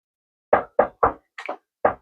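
Chicken breasts knocked and patted in seasoned flour for fried chicken, five short dull thumps close by, three quick then a softer scuffing one and a final knock.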